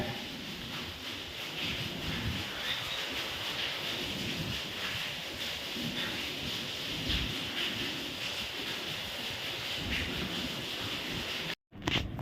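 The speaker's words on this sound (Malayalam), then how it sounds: "വെളിയിൽ നല്ല മഴ" Steady heavy rain hisses continuously outside, a dense wash of noise with no voices, cutting out briefly near the end.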